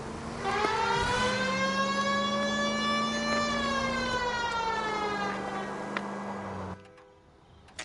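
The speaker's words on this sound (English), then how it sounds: "The siren, Cole, use it." Police car siren in the video game L.A. Noire, a loud continuous wail with rich harmonics that rises and holds steady for about six seconds before cutting off abruptly, with no talk over it.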